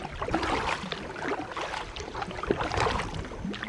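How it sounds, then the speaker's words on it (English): Canoe paddled upstream on the Ochlocknee River, with repeated paddle strokes and water splashing against the hull, moderately close amid gentle wind. "So I'm gonna paddle on up, a little stronger in here"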